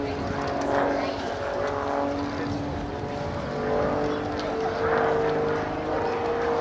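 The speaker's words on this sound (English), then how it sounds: "will now bring the Tutor around for his departing wave" A Grob Tutor propeller trainer aircraft droning through a flying display at Duxford, a steady moderate engine hum at middle distance with a faint public-address voice underneath.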